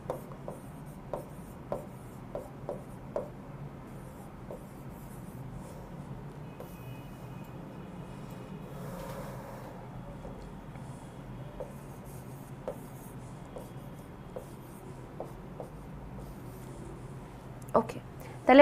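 Pen writing an answer by hand on paper, a faint quiet scratching with short sharp taps and strokes scattered across the span, under occasional soft speech in a calm indoor room.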